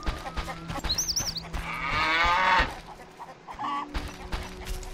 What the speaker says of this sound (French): Tiens, voilà notre championne de vaches.